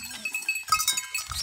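Goats and sheep bleating at a smallholding in the Pernambuco backcountry of Brazil, several overlapping close calls in quick succession with a rougher bleat near the end.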